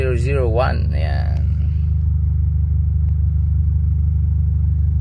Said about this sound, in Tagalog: Basta ang andar po ng makina nyo, goods na goods na pasok na pasok po yung RPM